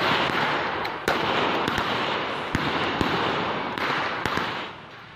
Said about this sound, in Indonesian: Sejumlah polisi akhirnya mengeluarkan tembakan untuk membubarkan sekelompok orang